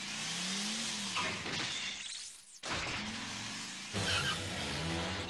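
A cartoon car from Doraemon revs and roars as it is driven out, loud and continuous, with a rising engine whine, a crunching clatter partway through and a sudden cut before the engine surges on.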